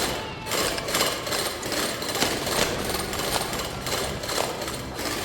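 Drilling in the roguelite game Drill Core produces a continuous rattling, jackhammer-like mechanical grind with rhythmic pulses, loud and steady throughout with no talking.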